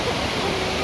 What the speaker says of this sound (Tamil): அப்படியே ஆப்போசிட் பார்த்திங்கன்னா உங்களுக்கு அந்த அருவி அப்படியே மேலேருந்து அந்த அருவிலாம் கொட்டுது.